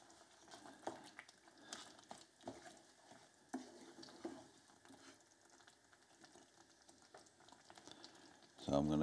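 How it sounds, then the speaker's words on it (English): Lamb bhuna gosht curry bubbling in a pot after being brought back to the boil, a low steady simmer with soft popping and occasional stirring clatter, with a louder knock at the end. "we just brought that back up to boil"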